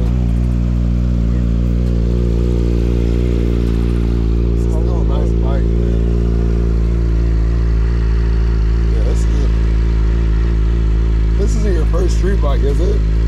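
A Yamaha R6 sport motorcycle idles loudly and steadily close by at a bike meet, a strong continuous engine drone while people talk over it at intervals.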